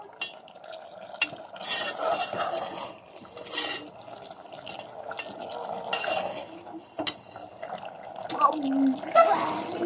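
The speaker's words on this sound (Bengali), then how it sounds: "মাখিয়ে নেওয়ার পর আমরা নেড়ে নিচ্ছি" Spice-coated beef is stirred in a pot for a traditional garlic beef curry. Soft scraping and clinks of the utensil continue under a speaking voice.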